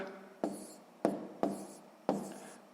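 Pen strokes writing numbers on paper while working a sixth-grade math multiplication exercise, four short scratchy bursts in a quiet, close setting.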